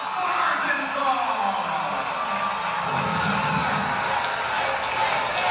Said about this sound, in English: Barnhill Arena is loud tonight.